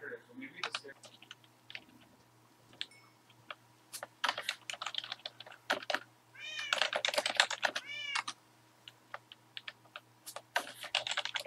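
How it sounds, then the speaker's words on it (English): A cat in the Minecraft video game meows several times at a moderate distance, the cries set among steady, close computer keyboard typing and clicking. Faint voices may be heard in the background. "Come see this cat."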